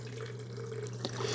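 Water is poured from a carafe into the top reservoir of a BUNN Heat N Brew 10-cup coffee maker, a quiet steady trickle and splash with a low hum underneath.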